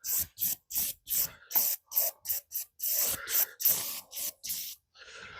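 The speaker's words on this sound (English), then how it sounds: "I'm going to spray the back of this with silicone spray, which is a rubber lubricant" Short bursts of silicone rubber-lubricant aerosol hiss close by, about a dozen quick sprays in an uneven rhythm, with no talking.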